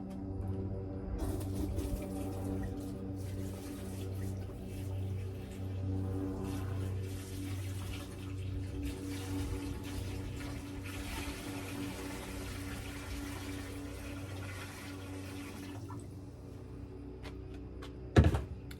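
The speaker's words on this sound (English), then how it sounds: "Now I'm pour the water in." Water pours steadily from a pitcher into a pan set up for cooking meat, a soft continuous trickle lasting several seconds that ends with a sharp knock.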